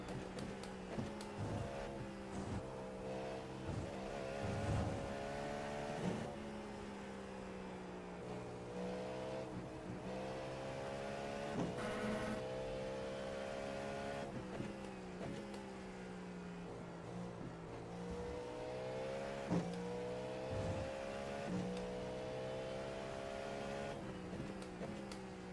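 LMP2 prototype race cars lap Watkins Glen, engines droning steadily with repeated rising and falling revs and gear shifts, a continuous close-up onboard roar without speech.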